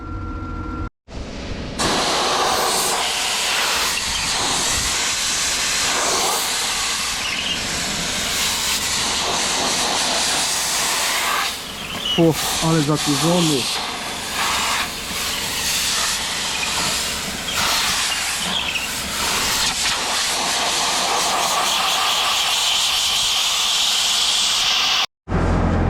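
Compressed air hisses steadily as dust is blown off a farm tractor, a loud continuous rush lasting almost the whole time with small shifts in pressure and a brief stop near the end; a voice speaks briefly at the start.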